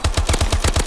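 An automatic weapon fires in Call of Duty: Advanced Warfare, a rapid burst of about eight loud, evenly spaced shots in under a second, close and alone.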